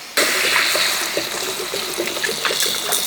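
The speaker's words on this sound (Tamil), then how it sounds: "முருங்கைக்காய் வதங்கிட்டு இப்போ நாங்கள் தண்ணி சேர்த்துருவோம்" Water pours steadily into a cooking pot of sautéed drumsticks (moringa pods) for a milk curry, a continuous close splashing gush with light trickling bubbles, no voices.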